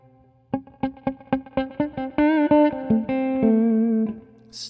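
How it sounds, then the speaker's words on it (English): Electric guitar played through a Moody Blue reverb pedal with drive engaged: a run of single plucked notes rising in quick succession, then a few sustained distorted notes ringing out with a reverb tail, close and loud, no talking. "Still got a lot of reverb there."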